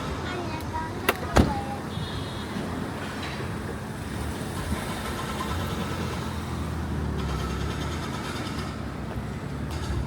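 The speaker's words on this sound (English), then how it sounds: "Take the taxi I'm in right now." Steady interior drone of a taxi in China on a hot summer day, with the air conditioning blasting; a constant broadband rumble and whoosh fills the cabin, broken by a couple of brief sharp clicks early on.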